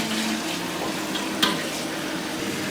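Boiled infant water pours steadily into a cooking pot, a continuous close hiss of running water with one brief clink partway through and no talking.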